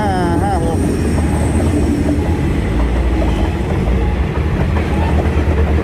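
GEK 4556 locomotive train passing a level crossing on the Bangkok to Chiang Mai line, very loud and close, with a continuous rumble, rhythmic wheel clatter and some high metallic squeal.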